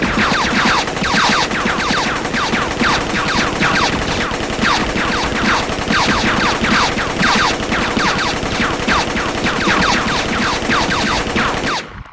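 Sustained, rapid gunfire in a South Indian action film scene crackles loudly and steadily for the whole stretch, dense bursts overlapping like a battle, then cuts off abruptly at the end.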